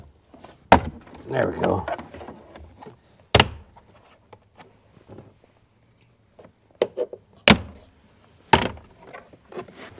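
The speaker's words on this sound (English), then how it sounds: "All right, we are going to come in here with our little pry bars." Trim panels on a 2023 Ford Bronco being popped loose with small pry bars, giving several sharp, loud clicks and snaps spaced irregularly through the stretch, with someone briefly talking between them.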